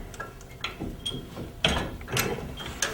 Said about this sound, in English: You can also use an Allen wrench, but it's easier on a ratchet.